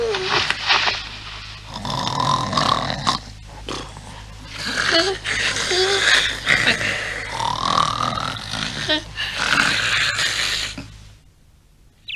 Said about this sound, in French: J'ai pas très bien dormi avec tous ces ronflements.